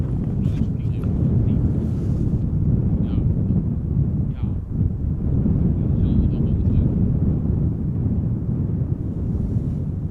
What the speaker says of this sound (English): A330 Turkish. Flight 1952 going to Istanbul.